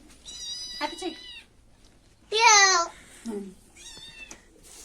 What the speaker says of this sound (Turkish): kedini çek